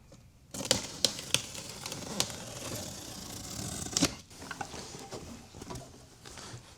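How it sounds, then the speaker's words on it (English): A blade cuts open the cardboard shipping box of a made-to-order chrome radiator for a 1955 Bel Air, giving close, sharp clicks and snaps over steady scraping and rustling, with no voices. "Now it's time to cut open the box."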